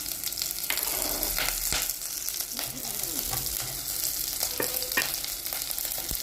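Green chillies and mustard seeds frying in hot oil for a tomato tempering dish, a continuous close sizzle with scattered crackling pops and occasional stirring scrapes, no voices.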